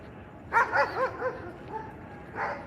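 A dog barks a few times close by, in short excited yips with a brief whimper between them, over a quiet room.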